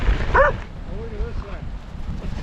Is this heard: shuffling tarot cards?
no